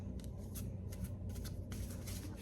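A deck of cards being shuffled by hand in an intuitive tarot-style reading, producing repeated soft riffling and sliding bursts at close range over a steady low background hum, with no talking.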